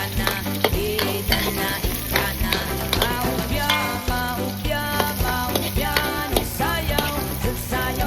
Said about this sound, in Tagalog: igisa na natin yung hiniwa natin na sibuyas, bawang, luya